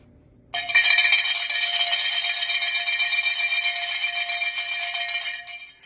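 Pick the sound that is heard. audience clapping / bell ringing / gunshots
bell ringing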